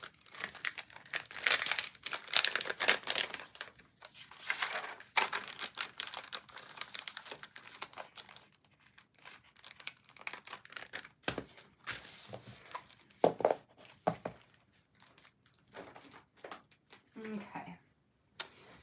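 Stickers and their plastic packaging are handled and put away at a craft table, with repeated close crinkling, rustling and tearing sounds in irregular bursts over faint quiet gaps.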